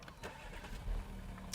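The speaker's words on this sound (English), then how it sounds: "When I start the car" An Audi A7 Sportback facelift from 2015 starting up, a quiet, brief whir of the starter with a low engine rumble catching underneath, faint and heard from inside the cabin.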